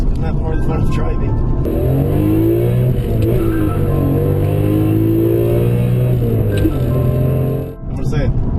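BMW E46 M3 engine accelerating hard, a loud rising howl climbing through the revs with a brief gear change, heard close from inside the car with a voice talking over it.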